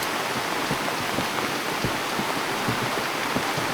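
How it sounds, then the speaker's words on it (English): Heavy rain pours down at a fishing lake, a dense, steady hiss of drops with scattered louder pattering hits, close and continuous with no voices. "it's raining really hard, so apologies if you can't really hear me"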